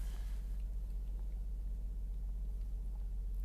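A car engine warming up idles with a low, steady rumble, faint and even with no other sounds.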